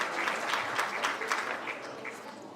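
Crowd at a high school athletic hall of fame induction ceremony applauding the evening's MC, a steady mid-level patter of many hands clapping throughout, with no voices standing out.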